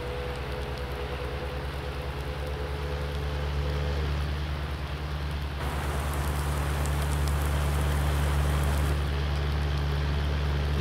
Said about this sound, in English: very rainy day today.